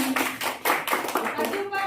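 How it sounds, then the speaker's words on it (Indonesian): A church congregation at a Pentecostal worship service claps for someone coming forward, a short burst of close hand claps mixed with voices talking in the room. "Tepuk tangan dulu dong."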